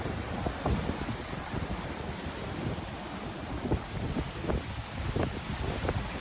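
Rough sea waves strike the shore at Colombo, with uneven surges breaking over a constant windy wash; several sharper splashes stand out near the microphone.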